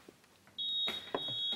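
A game show buzzer is pressed, giving a thin steady high electronic tone that starts abruptly and holds for about a second, with a couple of clicks and knocks over it, fairly faint.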